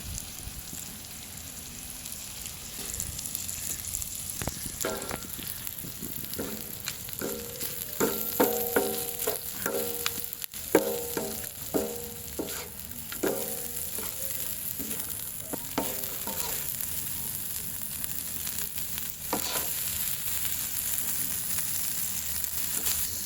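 Intestine curry (kudal varuval) with salt is stirred and fried in a pan, a steady soft sizzle under repeated scraping strokes of a spoon that cluster in the middle, close and fairly quiet, with no talking.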